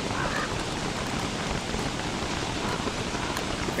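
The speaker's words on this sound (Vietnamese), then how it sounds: "Ôi, mưa ấy kìa" Steady rain in the survival game Don't Starve Together hisses as a constant, even wash of noise with no breaks, close and moderately loud, carrying on alone for several seconds.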